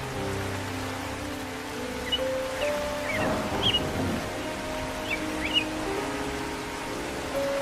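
Rain falling in a cartoon scene, a soft, steady patter under faint background tones and a few brief chirps, with no speech.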